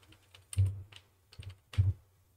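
Typing on a computer keyboard: a few quick, close keystroke clicks in short irregular bursts, with no talking.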